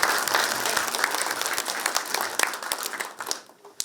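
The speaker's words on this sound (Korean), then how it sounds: "박수 한번 쳐주셔야죠." An audience claps at a residents' meeting, a dense, even burst of applause from a room of people that thins out near the end.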